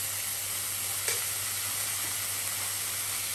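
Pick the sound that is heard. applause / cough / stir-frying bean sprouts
stir-frying bean sprouts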